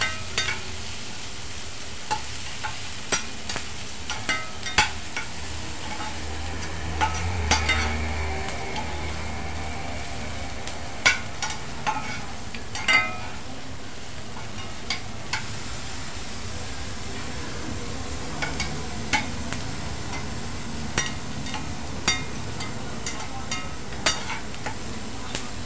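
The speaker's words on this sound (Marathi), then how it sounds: "आता हे परतून घेणार आहोत।" Sprouts with onion and half a spoon of turmeric sauté in a pan, making a long, even sizzle. Scattered spatula taps and knocks recur at irregular intervals, and no talking is heard.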